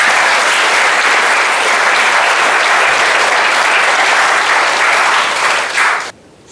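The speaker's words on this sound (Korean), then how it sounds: "박수 한번 주시죠." An award ceremony audience gives steady, loud applause, a dense wash of clapping that holds evenly for about six seconds and then cuts off abruptly.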